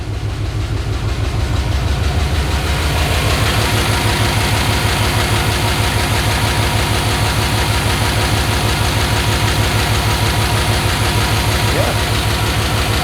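A 6.0L LS V8 swapped into a Chevy S10 truck idles close by, a loud, throbbing, steady engine rumble with rhythmic pulsing, and a voice is heard faintly under it.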